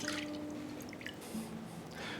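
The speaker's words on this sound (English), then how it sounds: "I'm going to pour the liquid into this small bowl." Liquid squeezed from grated zucchini is poured into a small bowl, giving faint, soft drips and a light trickle with a few splashes, close and quiet, with no talk.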